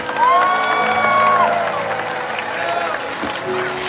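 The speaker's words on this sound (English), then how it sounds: "Everybody, please give a big round of applause for Orchid." A large crowd applauds and cheers loudly at a SeaWorld orca show, with whoops and children's shouts mixed in, sustained throughout with a whistle-like tone early on.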